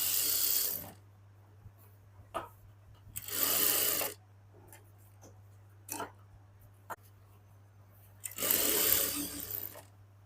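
Sewing machine stitching a salwar, three loud bursts of rapid needle chatter separated by quiet pauses with small clicks and a low hum.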